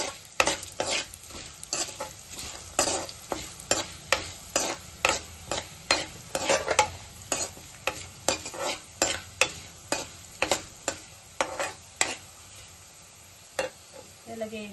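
Coriander seeds and cumin fry in a pan for paneer masala curry, with a soft background sizzle under a steady run of sharp scraping strokes as a spoon stirs them, fairly close and rhythmic.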